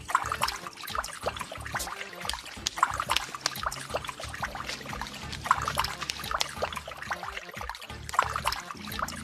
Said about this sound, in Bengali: এই তো জলের সাউন্ড আসছে, কলটা মনে হয় বন্ধ করতে কেউ ভুলে গেছে।